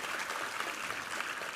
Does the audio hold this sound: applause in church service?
yes